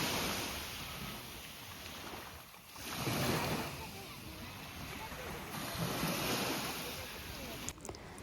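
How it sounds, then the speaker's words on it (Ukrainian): Sea waves at the seaside, a steady wash of surf rising and falling with wind buffeting the microphone, fairly quiet and continuous, with faint voices in the background. "Моречко сьогодні прекрасне, як і завжди."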